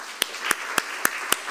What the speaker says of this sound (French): On peut applaudir André Michel.